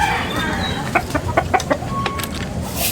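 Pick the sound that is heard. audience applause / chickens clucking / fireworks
chickens clucking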